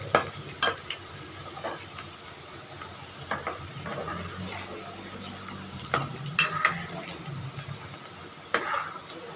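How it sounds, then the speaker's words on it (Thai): Flour-coated shallots fry crisp in oil over high heat, giving a soft, steady sizzle broken by intermittent clicks and scrapes from stirring. "หอมที่เราคลุกแป้ง ทอดกรอบไว้นะคะ เอาลงไปเลย"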